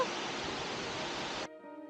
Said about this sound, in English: Oh, this is Bear Creek Falls.